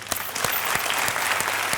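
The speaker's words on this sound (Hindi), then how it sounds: "अरे वाह, तालियां।" A studio audience on a Hindi television game show bursts into dense, steady applause, a short burst of clapping heard alone without talk.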